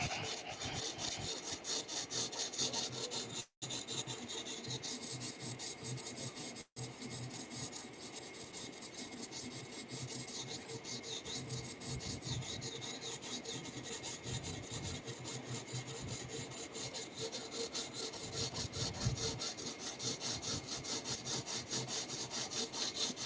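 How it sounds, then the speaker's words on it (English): A knife is sharpened with continuous rhythmic rasping and grinding strokes that go on steadily and close by, with no pauses apart from two very brief breaks. "Seeing helps when sharpening knives."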